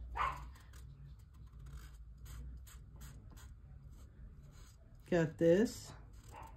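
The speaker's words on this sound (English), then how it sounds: "one of my dogs barking" A dog barks twice in quick succession near the end, fairly clear against a quiet room where someone speaks briefly early on.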